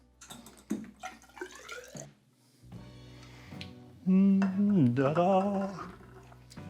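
Peach mango cider from a home-brewing kit splashes briefly in a test jar while a hydrometer gravity reading is taken, with a person humming and speaking over the liquid sounds.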